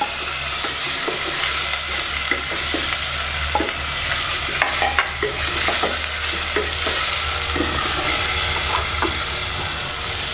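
Chopped tomato frying with garlic, ginger and onion paste in a pan, a dense continuous sizzle close up with scattered stirring clinks and scrapes throughout, no voices.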